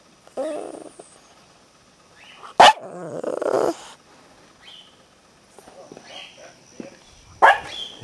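A dog named Muggs barks in short bursts around an indoor junkyard in Maine, with several loud, close barks separated by quieter stretches and faint bird calls in the background.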